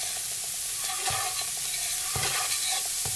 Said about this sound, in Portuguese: a cebola refogando aqui junto ao alho e ela ficar bem transparente